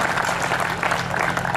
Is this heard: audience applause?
yes